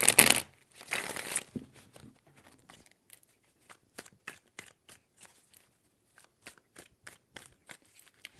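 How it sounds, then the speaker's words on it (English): Tarot cards being shuffled, with a few loud riffling bursts at the start followed by a sparse run of soft, separate card taps and flicks. "Three shuffles."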